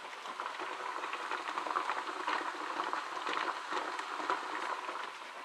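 Steady, dense bubbling and hissing of liquid boiling hard inside a pressure canner, continuous and close, with no voices.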